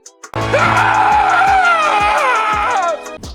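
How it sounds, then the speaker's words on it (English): A man in a scene from the TV show Peacemaker lets out a loud, sustained scream lasting about three seconds, raw and strained, with brief thuds just before it and a few faint knocks underneath. "he lets out this scream"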